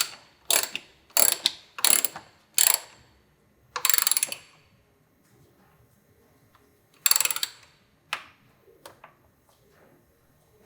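Ratchet clicks from a tapered fastener being driven into the nylon puck of a Woodcraft frame slider on a 2020 BMW S1000RR, heard as several loud close ratcheting bursts, then a pause and a few more scattered clicks.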